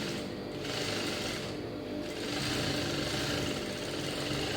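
A sewing machine runs nearby, stitching a lining blouse, its fast motor-and-needle hum holding steady with slight rises and dips in speed.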